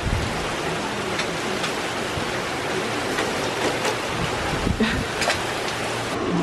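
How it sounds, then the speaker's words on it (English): Slanted, wind-driven tropical storm rain during Hurricane Debby makes a dense, constant roar, with gusty wind buffeting the microphone throughout and no voices. "There's a slanted rain."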